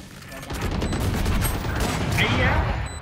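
Pistol fire while running in the shooter game Valorant comes as a dense, loud stream of rapid shots that barely pauses, with a voice murmuring faintly underneath.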